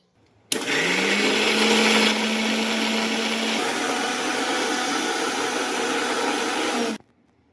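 Kitchen mixer grinder whirring loudly while blending onion, garlic and ginger into pastes for Maharashtrian chicken, starting abruptly, running steady for about six seconds with a pitch shift partway, then cutting off.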